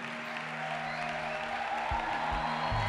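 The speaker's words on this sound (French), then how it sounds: "Acclamons le Seigneur très très fort" A church congregation at a Sunday worship service fills the room with steady, sustained applause that holds at an even level throughout, with a low musical drone running underneath.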